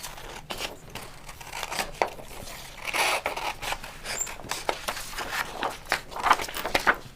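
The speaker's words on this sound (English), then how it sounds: "And then I actually cut this into 3 to make 3 different lavender sprigs." Scissors cut through crepe paper while lavender sprigs are made, with repeated crisp snips and papery rustles in uneven bursts close by, and no talking.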